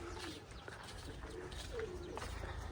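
A pigeon coos softly and repeatedly at a house, the low rounded calls sitting in steady background noise with no talk over them.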